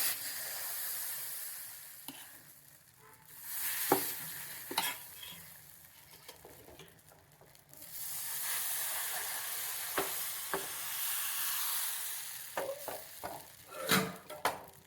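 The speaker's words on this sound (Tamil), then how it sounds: "இப்போ மாவு எடுத்து அதில் விட்டுலாம்." Appam batter hitting a hot pan sets off a steady, close sizzle and hiss, with stirring scrapes and a few sharp utensil taps breaking through the continuous frying noise.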